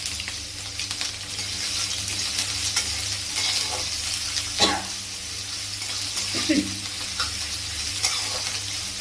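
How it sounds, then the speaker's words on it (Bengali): Garlic frying in a pan makes a continuous sizzle with stirring scrapes and a few louder clatters. It is fairly close, with no clear speech. "রসুন দিয়ে দেবো রসুনটা একটু নাড়িয়ে নিই তারপর দেবো ছিল পেঁয়াজ"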